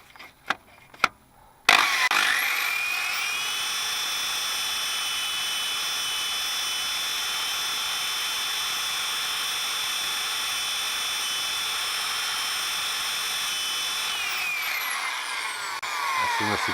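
A drill whines steadily while boring out a Jeep track rod bushing, a loud continuous high-pitched grind running for about twelve seconds after a few short clicks, then winding down.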